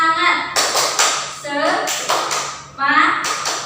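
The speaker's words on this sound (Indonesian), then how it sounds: "Tepuk semangat." Children in a classroom doing the tepuk semangat clapping chant, bursts of rhythmic hand claps mixed with loud chanted voices, close and lively.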